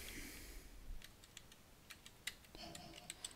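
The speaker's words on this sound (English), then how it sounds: "keyboard in the background." Computer keyboard keys click and clack faintly in the background of a room, a scattering of light irregular taps with a few sharper ticks near the end.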